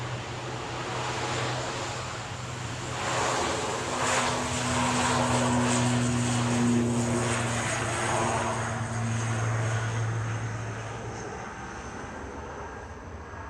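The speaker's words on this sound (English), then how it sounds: "Heading out now is Aer Lingus UK. Aer Lingus Regional CMJJ to Belfast with flight 3619." An Aer Lingus Regional turboprop departs Manchester Airport for Belfast with a loud, steady propeller drone. Low tonal hums rise and swell as it passes, then fade slightly toward the end.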